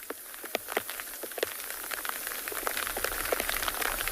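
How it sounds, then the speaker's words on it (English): Light rain patters steadily on leaves and surfaces outdoors during a morning wildlife safari, a soft continuous spatter of scattered drops, fairly faint and with no voices over it. "Hear the pitter-patter of raindrops coming down."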